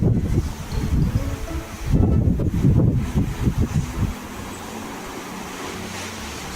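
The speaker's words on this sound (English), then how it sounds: "There's a lot of wind in the background." Strong coastal wind buffets the microphone in heavy low rumbling gusts, loudest in the first few seconds, then easing to a steadier roar.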